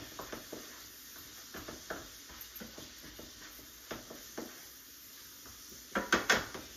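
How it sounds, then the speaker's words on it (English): Cumin being stirred into taco meat in a pan for keto taco bowls: soft, repeated scraping strokes over a low sizzle, ending in a few louder clattering scrapes. "And then I'm going to put a little bit of cumin. Let me stir that up."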